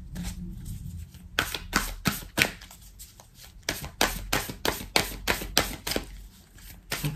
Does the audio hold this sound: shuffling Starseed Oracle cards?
yes